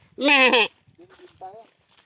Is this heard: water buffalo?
yes